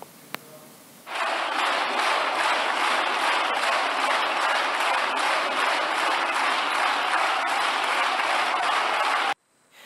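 Party members applaud in Spain's Congress of Deputies, a dense, uniform burst of clapping that starts abruptly, holds loud and even for about eight seconds, then cuts off sharply.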